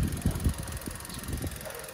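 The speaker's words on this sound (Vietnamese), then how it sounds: "Máy đang nổ, máy nổ cực kì luôn." A 2021 Kia Soluto Deluxe sedan engine idles close by, giving a steady low rumble with soft uneven pulses and no talking.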